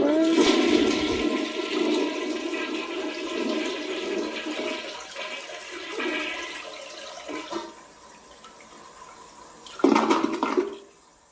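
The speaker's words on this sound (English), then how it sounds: "Here's the flush." A toilet flushes close by, a loud rushing gurgle of water that swirls down and tapers off, followed by a brief second surge of water near the end.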